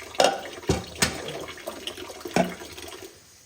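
Water from a tap in a Kashmir village home, running and splashing with several sharp knocks and bursts of flow over a faint steady hiss, close by and without talking.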